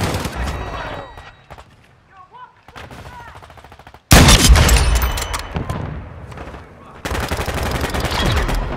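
Gunfire in the video game Call of Duty: Modern Warfare II, dense bursts of automatic fire and heavy booms, loud and close, with a quieter lull partway before the shooting resumes in force.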